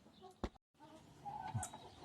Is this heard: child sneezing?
no